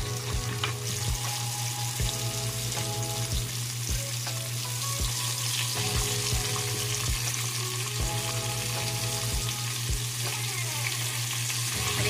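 Fish pan-frying in shallow oil for crispness, a steady close sizzle and crackle with scattered pops and occasional clinks of a utensil against the pan.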